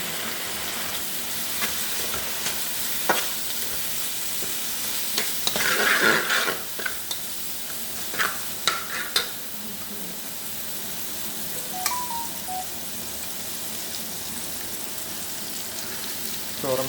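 Mixed vegetable fried rice with onion leaves, carrot, capsicum, green chillies and soy sauce is stir-fried in a pan, a steady close sizzle with repeated scraping and tossing of the spatula and a few louder metallic clanks.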